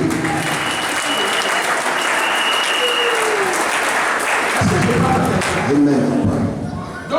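A church congregation claps together in a loud, dense burst of applause that fills most of the moment, then fades as voices begin to rise near the end.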